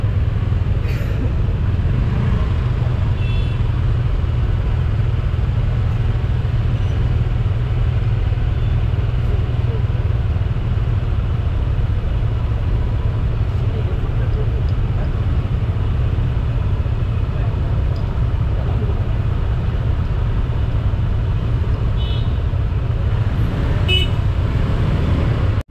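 Traffic jam in Legian, Bali: a steady low rumble of idling car engines and road noise fills the whole stretch, with a few short car horn toots breaking through near the start and end, and people talking faintly underneath.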